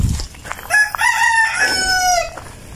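A rooster crows once, loud and close, with a strained, rising-then-falling cock-a-doodle-doo lasting about a second and a half after a brief rustle.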